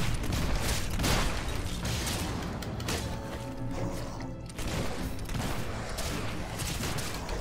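Gunfire rings out in the video game Fable 3, dense rapid shots and crashing impacts layered over a continuous loud game soundscape with no pause throughout.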